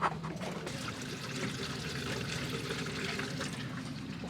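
Mixed acid trickles and pours into a rusty boat engine thermostat during a flush, a faint, steady liquid splashing and gurgling close by with no talk.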